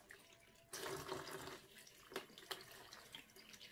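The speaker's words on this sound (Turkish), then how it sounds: "Göbeklerini kestiğimiz hatmi gül çiçeklerini şöyle yıkayacağız." Hollyhock flowers with their centres cut out are rinsed gently under running water, a steady tap stream splashing from about 0.7 s with a few louder splashes as the petals are handled, close and moderately loud.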